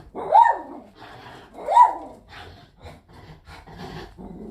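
A dog barks twice loudly up close, followed by lower rumbling growls and softer grumbling sounds.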